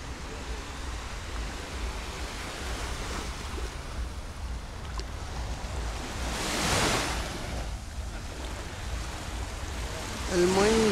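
Sea waves on the coast at Ordu, Turkey, a continuous wash of surf with a louder swell near the middle, under faint wind and a voice briefly at the end.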